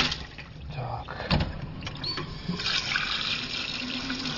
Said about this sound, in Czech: Na začátku horkou vodou, potom vymývám studenou, aby byla vodnice připravená rovnou k bublání